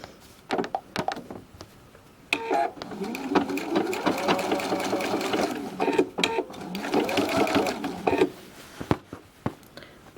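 A sewing machine stitches binding onto a quilt edge in bursts of rapid mechanical chatter with short pauses between runs. Clicks and handling noises fall in the gaps.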